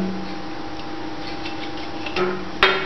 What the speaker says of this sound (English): So I'm going to remove these two screws over here